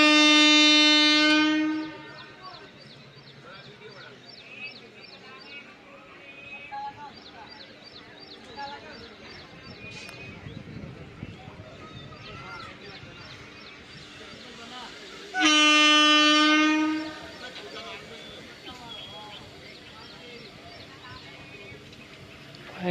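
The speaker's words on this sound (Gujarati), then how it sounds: "વંદે ભારત પહોંચી ગઈ છે." A Vande Bharat train arrives at a station, sounding two loud, sustained horn blasts roughly fifteen seconds apart over the rolling rumble of rail traffic, with voices faintly in the background.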